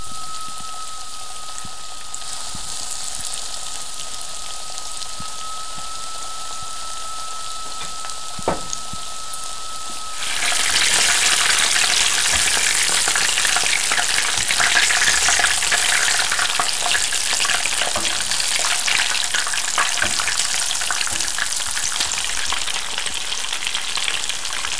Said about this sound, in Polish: Z każdej strony udka smażę około 12 minut, tak żeby mięso było miękkie.